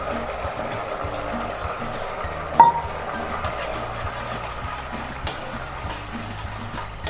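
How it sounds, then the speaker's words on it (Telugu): Water is poured into a pan of egg chilli sauce during cooking, giving a steady, moderately loud splashing hiss with a couple of light clinks of utensils. "దీనికి కొంచెం వాటర్ని యాడ్ చేసుకోవాలి."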